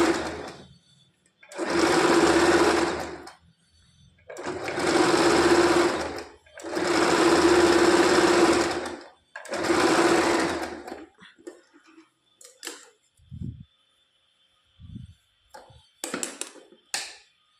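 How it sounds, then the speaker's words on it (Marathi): A sewing machine stitches a princess-cut blouse with double stitching. Four loud, sustained runs of rapid mechanical whirring are separated by brief pauses, then give way to faint clicks and handling sounds. "फिरवायचा आणि डबल स्टिच टाकायची"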